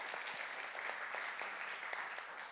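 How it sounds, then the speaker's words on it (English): Church congregation clapping in celebration at a Sunday gathering, a steady soft wash of hands, faint and distant. "You guys can clap for that."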